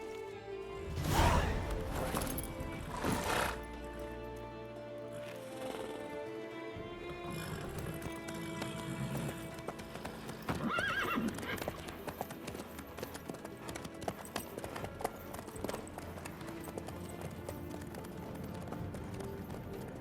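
Horse galloping in The Witcher 3, rhythmic hoofbeats running under a dense, busy game soundscape and music throughout, moderately loud and continuous.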